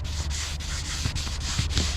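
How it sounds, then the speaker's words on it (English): Wet sanding of a car hood's clear coat with 3000 grit sandpaper: a steady, close scratchy rubbing in even back-and-forth strokes with brief dips between passes, no voices. "I'll have to remove these scratches from the 2000 grit sandpaper with 3000 grit."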